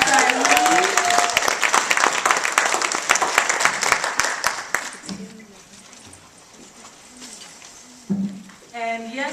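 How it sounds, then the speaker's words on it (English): A conference audience at a women's leadership opening ceremony breaks into loud, dense applause that fills the room for about five seconds, then fades into quieter murmuring before a few brief voices and scattered claps return. "Give another round of applause for Miss Catrice."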